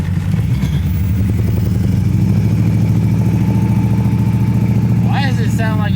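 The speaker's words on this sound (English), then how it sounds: "Why does it sound like it's not running on all the cylinders now?" A modified Chevy S10 pickup with an LS engine, rough and uneven as if not firing on all cylinders, chugs steadily and loudly up close, with a pulsing low rumble and clattery beat throughout; a brief high whistle or squeal enters near the end.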